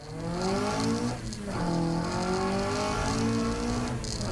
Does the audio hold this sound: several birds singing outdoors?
no